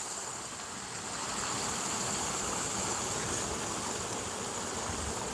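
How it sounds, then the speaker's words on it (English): Fountains of an outdoor water park in a Korean apartment complex, a steady broadband rushing hiss of spraying water, constant and moderately distant with no voices. "I saw that they'd switched on the water park"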